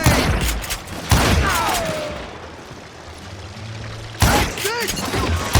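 Gunfire in the Western shooter game Call of Juarez Gunslinger, with several loud, sharp shots and a burst of rapid firing, separated by a quieter stretch with a ringing whine.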